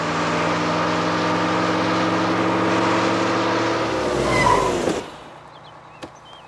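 A car overtakes a bus in a film chase scene, its engine roaring loud and steady, swelling briefly before cutting off abruptly into near quiet, with a single faint knock afterward.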